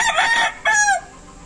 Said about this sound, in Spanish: qué les parece este gallito cresta de sierra, pata blanca, retinto